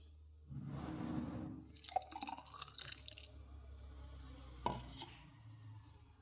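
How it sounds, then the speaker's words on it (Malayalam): Chambakka (rose apple) juice shake is poured into a glass in a quiet kitchen, a soft liquid rush lasting about a second, followed by sparse clinks and drips. "ഇനി ഇതിനകത്തോട്ട് ഒഴിക്കാം, ഗ്ലാസ്സിലോട്ട്."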